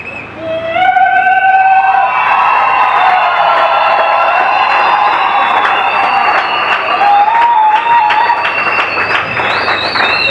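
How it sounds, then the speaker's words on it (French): Crowd applauding and cheering a couple at a church blessing ceremony, loud sustained clapping with whoops and high ululating cries, full and continuous after a quick start. "On acclame encore pour ce couple."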